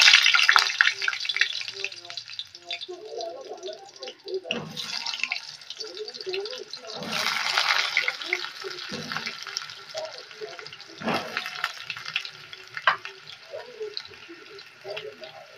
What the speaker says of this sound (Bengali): আলুগুলো আগে ভেজে তুলে নেব